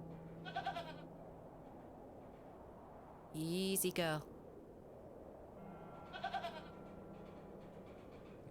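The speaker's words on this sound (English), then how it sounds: "Ah, goat." A goat bleats three times in the game The Excavation of Hob's Barrow, short wavering calls with the loudest in the middle, over a quiet ambient hum, and a voice speaks briefly.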